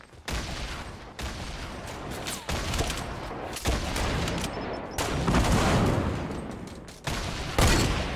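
Grenade launcher explosions in Fortnite, a continuous barrage of loud, dense blasts and crackling bursts with sharp onsets every second or so, close and harsh with no pause.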